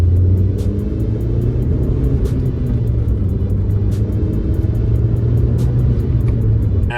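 An Audi TT on a test drive after a brake pressure sensor repair, its engine a steady loud low rumble heard from inside the car, with a constant tyre and road roar and slight swells in revs throughout.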